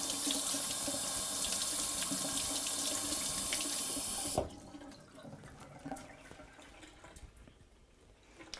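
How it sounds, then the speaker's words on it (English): Kitchen tap running steadily over sorrel leaves being rinsed, a bright continuous splashing that cuts off abruptly midway, leaving faint drips and small handling noises in a quiet room. "the running water does a lot of the work for you"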